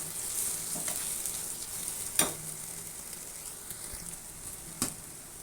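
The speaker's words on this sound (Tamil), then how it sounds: "இது நல்லா சுருளை கிளறிக்கிறேன்" Ginger pickle with tamarind, salt and jaggery being stirred in a pan: a steady, close sizzle with a few sharp scrapes of the spoon against the pan.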